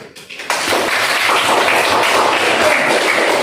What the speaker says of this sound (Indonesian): Silakan beri aplaus dulu.